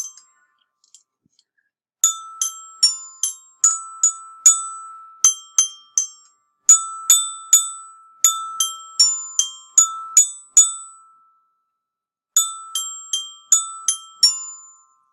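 Bright, ringing metallic bell tones struck in quick melodic runs, with short pauses between phrases, clear and close with no talking.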